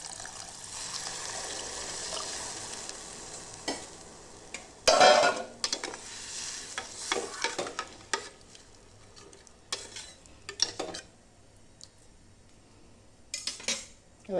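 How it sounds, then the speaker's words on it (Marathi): Water goes into a pressure cooker with dal and the lid is fitted on, starting with a soft pour and sizzle, then scattered metallic clanks, scrapes and taps of the pot and lid, close by. "आता पाणी टाकते आणि झाकण लावून घेते."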